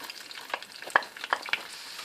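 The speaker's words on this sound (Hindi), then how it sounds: "अब मैं इसमें ये प्याज चॉप जो बारीक किया," Finely chopped onion hits hot butter and oil, producing a soft close sizzle punctuated by several sharp spoon-and-pan stirring clicks spaced through the short stretch, with no one talking.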